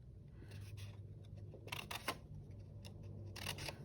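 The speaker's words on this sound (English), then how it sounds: "put 2 cuts, and I fold it down." Paper being cut and folded to make a 3D castle craft, with a few quiet crisp snips and rustles in short bursts, close up and alone, no talking.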